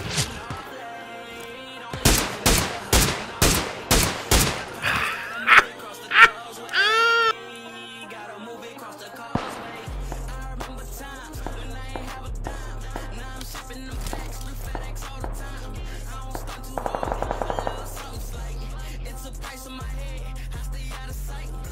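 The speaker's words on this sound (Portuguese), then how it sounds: "Tiroteio tá rolando solto" Heavy gunfire in the video game PUBG Lite: a rapid burst of loud, sharp shots rings out close, followed by scattered quieter pops over a droning game soundtrack.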